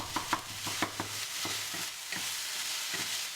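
Minced meat and glass noodles being stir-fried for Sichuan ants climbing a tree, with a steady sizzle broken by a run of scraping, clattering stirs at the start, then a fainter continuous fry.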